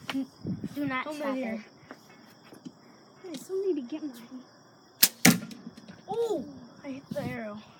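An arrow leaves a bow and strikes with a single sharp crack near the middle, and a smaller impact follows right after. People talk before and after it.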